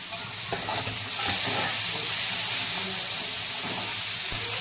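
Shev bhaji with chopped coriander and chilli sautéing in a pan, a steady close sizzle and frying hiss with occasional stirring scrapes throughout.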